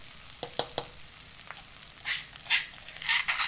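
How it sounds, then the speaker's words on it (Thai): Oil and garlic frying in a pan for Thai pad kra pao, with a few sharp pops early on, then bursts of crackling sizzle that swell and fade close by, no talking. "นี่เราจะเท น้ำมันนะครับแล้วก็กระเทียม"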